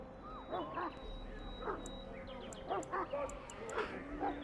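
Mabari hound in Dragon Age Origins giving several short barks and yips spread across a few seconds, moderately close, over a low steady game ambience.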